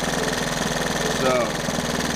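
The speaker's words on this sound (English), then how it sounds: "Back to idle down. These things idle pretty low." Three-wheeler engine idling low and steady, a close mechanical hum with a faint knocking pulse and slight vibration, alone without talk for about two seconds.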